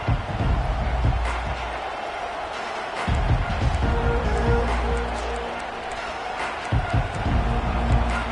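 A college football stadium crowd at an LSU game roars continuously in a loud, dense wall of cheering, with a commentator's voice under the noise.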